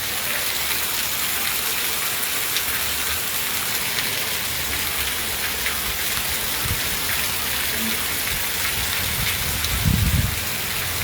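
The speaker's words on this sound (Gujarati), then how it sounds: "આજે અમારે છે ને પવન વરસાદ લઈને આવ્યો છે હારો." Village rain blown by wind pours in a dense, steady wash over surfaces, loud and unbroken for the whole stretch, with a brief low thump near the end.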